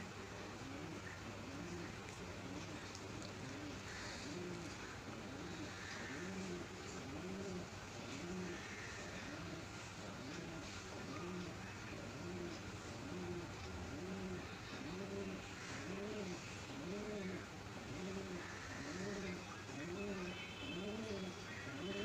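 A pigeon coos repeatedly from a balcony where it perches on a washing machine, soft rhythmic low calls recurring throughout against a steady hum of background noise.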